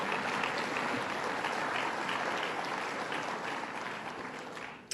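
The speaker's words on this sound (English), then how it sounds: "Let's give him a round of applause, President Etling" An audience at a governor's budget and reform address gives a dense, sustained round of applause that tapers off near the end.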